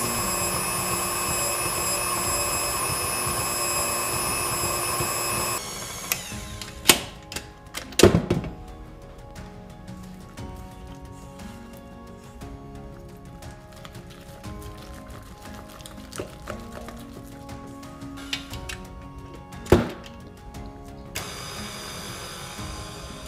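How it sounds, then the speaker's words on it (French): A stand mixer churns shortbread dough at a raised speed, its motor whirring steadily while scattered mechanical clunks and knocks ring out, with a loud whine at the start and end. "ça permet d'aider mon robot à mélanger en profondeur. J'augmente la vitesse."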